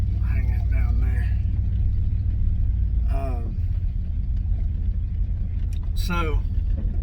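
Cabin of a Ford F-150 pickup truck on the move, with a constant deep road and engine rumble throughout and someone speaking briefly over it.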